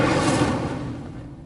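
The Incendio fire spell in Hogwarts Legacy, a single close whooshing burst of flame that flares loud at once and then fades over about a second, heard alone.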